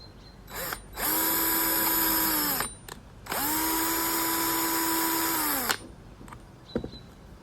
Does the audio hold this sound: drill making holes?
yes